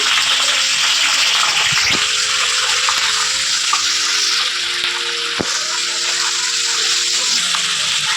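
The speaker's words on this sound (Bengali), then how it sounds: "এবার একটু ফোড়নে জিরা দেব। এবার আমি পেঁয়াজগুলোকে দিয়ে দিচ্ছি।" Onions go into hot oil with cumin for a paneer sabji, and a loud, continuous sizzle hisses evenly close up, broken only by occasional faint clinks of a utensil.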